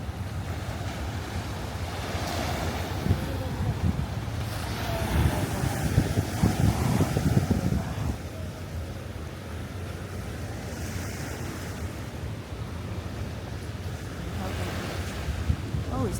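Small waves lap continuously on a little beach in Astoria Park, Queens, a soft steady wash with wind buffeting the microphone and a brief louder stretch of splashing.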